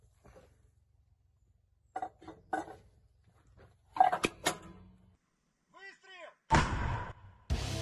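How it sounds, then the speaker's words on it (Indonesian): An MT-12 Rapira anti-tank gun fires on a front line near South Donetsk, heard as a few sharp, heavy blasts with some rumbling tail, separated by quieter stretches and brief voices. "aksi meriam anti-tank MT-12 Rapira menghancurkan target di garis depan arah Donetsk Selatan"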